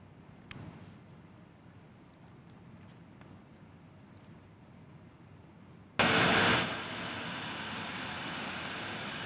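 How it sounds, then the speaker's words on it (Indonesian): A Lion Air passenger jet airliner engine, heard as a low distant rumble that suddenly turns into a loud, broad roar of jet noise partway through and then holds steady. "terbang ke Jakarta dengan menggunakan pesawat Lion Air"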